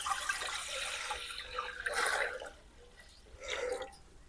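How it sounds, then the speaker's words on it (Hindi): Water poured into a kadhai to boil dal, uneven splashing and trickling in bursts, close and moderately loud with no talk. "कढ़ाई में डालते हैं पानी।"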